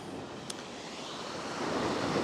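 Waves wash onto the beach at Happisburgh in a steady, continuous surf roar that swells slightly toward the end, with wind buffeting the microphone and no voices.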